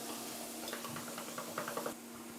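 Sauce of water, mushrooms, crushed garlic and demi-glace powder stirred in a hot pan on the stove, soft scraping and sloshing strokes over a low simmering sizzle, close and fairly quiet.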